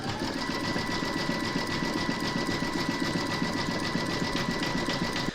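Embroidery machine stitching an applique letter, a steady fast rhythmic needle chatter running loud and unbroken from start to finish with no voices.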